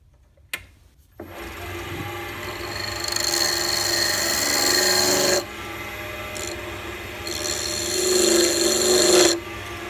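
A steampunk fountain pen body is hollowed out in its middle with a lathe or power tool, making a loud, rasping, grinding whine that starts after a brief knock and swells in surges and drops, alone with no voices.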